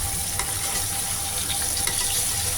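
Raw tilapia fish sautéing with spices in a pan, producing a dense, steady close sizzle with a few light scrapes and taps of stirring, no voices.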